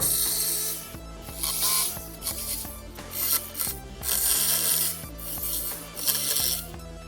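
A hand file rasps back and forth on metal, cutting a notch in a part for a truck upgrade, close and steady in repeated strokes with short pauses between, and no talk.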